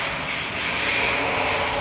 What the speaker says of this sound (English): Going now is Ryanair to Alicante, flight 4027.